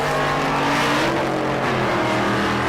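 An Olds station wagon drag car with a supercharged LS engine roars steadily and loudly at a race week drag strip, a thick sustained engine drone with no talk.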